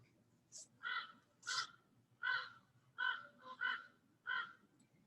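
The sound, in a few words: birds calling outdoors in the morning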